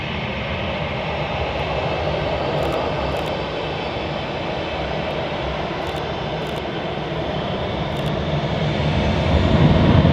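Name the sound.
Norwegian airliner jet engines, departing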